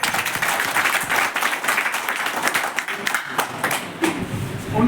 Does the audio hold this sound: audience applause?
yes